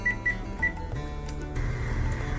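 A kitchen timer being set: a few short, high electronic beeps in quick succession over a steady low hum.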